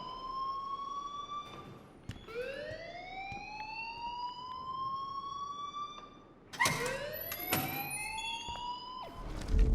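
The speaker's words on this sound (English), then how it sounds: "please turn off that alarm since that's your job" A rising and falling electronic alarm tone in a school in Life Is Strange, wailing in repeated sweeping cycles that restart and grow louder toward the end, with a few sharp clicks and no talk.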